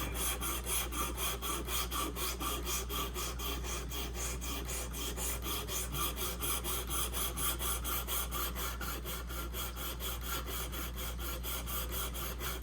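Traditional pocket knife blade stroked on a Worksharp Precision Pro sharpener, a long run of fast, even rasping passes, close and steady throughout, with no talking.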